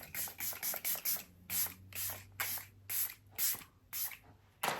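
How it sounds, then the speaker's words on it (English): Hard Candy Look On Lock setting spray misted from a pump bottle in a series of about fourteen short, close, crisp hissing bursts in an uneven rhythm, with no talking. "I'm going to lock this in with setting spray"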